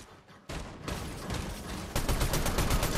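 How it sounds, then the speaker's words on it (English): Heavy gunfire in the video game Fortnite, a dense continuous barrage that starts abruptly and grows louder near the end, up close and without talk. "I'm getting shot again."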